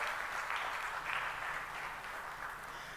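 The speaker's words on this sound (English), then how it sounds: "Round of applause again for our graduates." Audience applause for graduates at an annual coaching-group graduation ceremony, steady clapping that holds at an even level for the full stretch, moderately distant with no voices on top.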